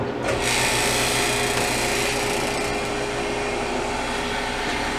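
A freeze dryer runs steadily through an extended heated drying cycle while processing cherry pie filling, giving a continuous loud mechanical hum and whir with no talking.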